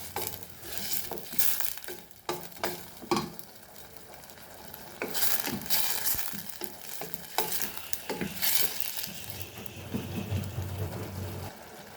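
Tomato and pepper frying in a pan for a Goan lemon fish curry, with close sizzling and intermittent stirring scrapes, loud bursts rising and falling over a steady hiss.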